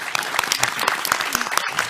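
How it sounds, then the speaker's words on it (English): Audience applause at a live PAX West panel recording, a dense steady round of clapping from a crowd lasting the whole moment, with a few brief voices mixed in. "Round of applause for that pitch"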